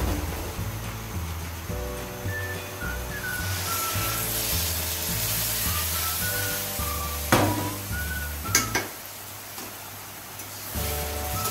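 Sizzling spice masala meets boiled potato and pea water poured into the pan for ghugni, a hissing fry over a steady low background hum, with a couple of brief clanks near the end and no talking.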